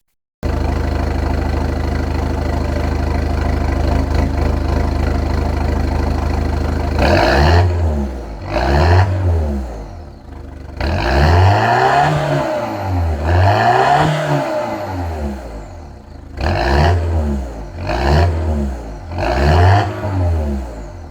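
A Volkswagen Polo 6R engine with exhaust valves idles with a deep steady rumble, then revs repeatedly in sharp rising and falling bursts, loud and close, with short idle pauses between blips.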